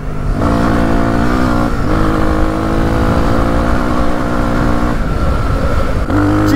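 A Suzuki DR 350 enduro motorcycle with worn smooth tyres accelerates in fourth gear on sand, a loud, close, sustained engine drone that briefly dips around shifts.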